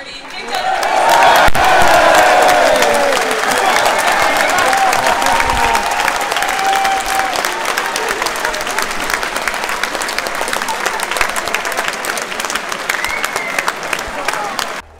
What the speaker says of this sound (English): just a big round of applause for our security.